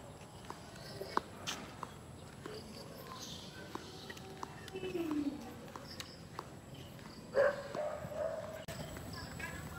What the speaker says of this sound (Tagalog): Saka may mga tumatahol-tahol ng aso guys.